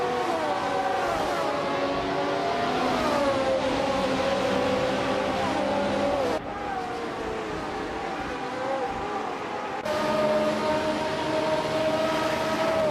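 Several race car engines whine and rise in pitch through gear shifts in a racing video game, a dense, steady roar of cars overtaking one another, with no voices.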